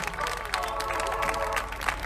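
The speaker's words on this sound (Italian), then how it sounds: "Facciamo da qui un applauso a zio Piero, dai, facciamolo" An audience at a Sardinian village festival show breaks into brief applause, a dense wash of many hands clapping close and loud, with voices mixed into the crowd noise.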